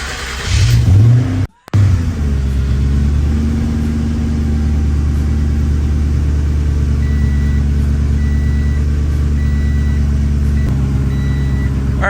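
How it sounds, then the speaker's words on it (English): A car fitted with Holley EFI and a flex fuel sensor, raised in the air, cranks briefly, drops out for a moment, then catches and settles into a loud, steady idle with a low rumble. "So let's try to start the car first."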